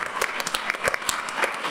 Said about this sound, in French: On applaudit Denis Bernard.